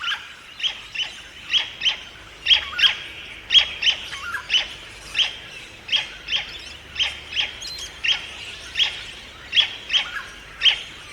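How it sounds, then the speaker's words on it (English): An Australian bird gives its characteristic cussit-cussit call in a rural setting near a waterfall, sharp paired chirps repeating in a steady rhythm about once per second, clear and close with faint background. "It makes a characteristic cussit-cussit call."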